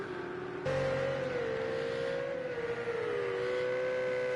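A race car engine in a sim racing game holds a steady high whine, jumping louder as revs climb, then wavering up and down as the driver works through gears, loud and close with no talk.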